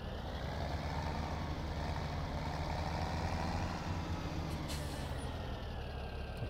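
Tractor engine in Farming Simulator 17 running steadily with a loud, continuous low diesel rumble and a brief hiss near the end, with no talking.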